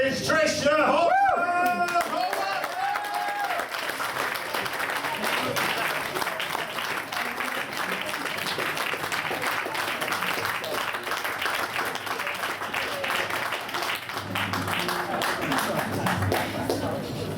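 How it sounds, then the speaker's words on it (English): Audience applause greeting a performer taking the stage at a spoken-word gathering, a dense sustained clapping from a crowd lasting many seconds, steady and loud before fading toward the end. "So I'd like to put your hands together. Welcome to the stage, Patricia, Horwood!"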